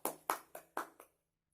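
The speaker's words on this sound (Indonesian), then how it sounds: "tepuk tangan untuk kelompok 1" Five distinct hand claps in a classroom for a student group after a presentation, a quick uneven rhythm, close and fairly quiet with nothing else heard.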